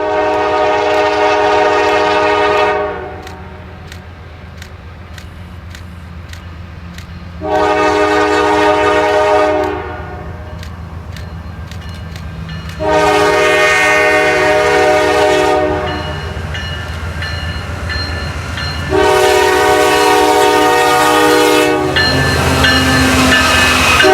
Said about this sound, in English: our first train would be NS 8994 West on the NS Chicagoland.